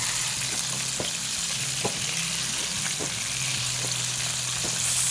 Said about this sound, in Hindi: इसकी पैटी थोड़ी सी जो है वो थिकन है, तो हम इसको ज़्यादा देर थोड़ा सा फ्राई करेंगे और लो फ्लेम पे ही करेंगे